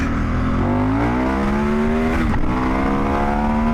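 A KTM 1090 Adventure R motorcycle pulls hard in first gear, its engine note climbing steadily in pitch as it accelerates, loud and close, then briefly dipping before rising again.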